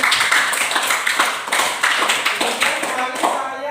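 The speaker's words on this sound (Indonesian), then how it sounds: "Beri tepuk tangan yang meriah untuk hari ini." Students in a classroom applaud together in lively, rapid clapping that keeps up a dense, rhythmic patter for several seconds, with some voices mixed in.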